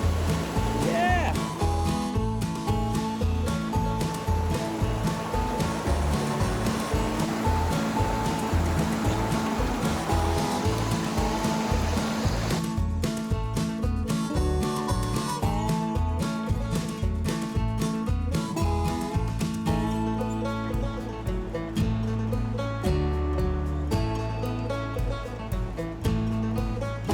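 Kern River water flowing, a continuous loud broadband rush of moving water heard close, steady throughout the clip with some rhythmic thumping in the background.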